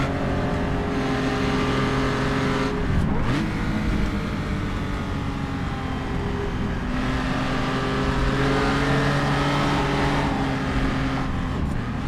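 A historic Jaguar race car runs in second gear at Spa-Francorchamps, a loud, steady engine roar heard from onboard that dips briefly on a gear change and then climbs again.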